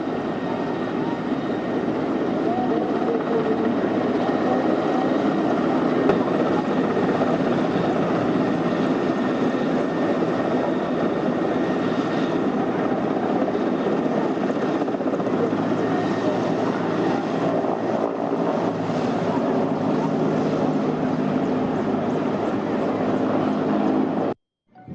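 A helicopter drones steadily and loudly throughout, its rotor roar constant and close before cutting off abruptly at the end.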